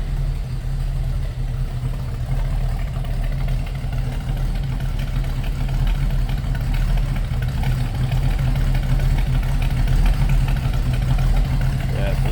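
A 1969 Ford Mustang GT Fastback with a 390 V8 and mild cam idles nearby, a steady deep low rumble that runs loud and even throughout.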